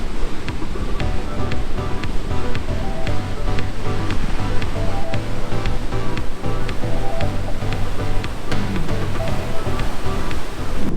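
Rough ocean surf churns and crashes beneath a beach pier at Juno Beach, Florida, a loud, constant roar of breaking water that never lets up.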